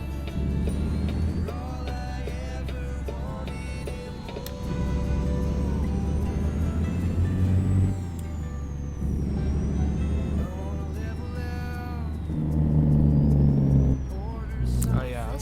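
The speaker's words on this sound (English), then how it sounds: "I'm gonna turn down the engine sounds just a hair." A Peterbilt 389 truck with a ZM3406 engine sound pack drones and revs through manual gear shifts in American Truck Simulator, steady and loud with air brake hisses, while someone talks over it now and then.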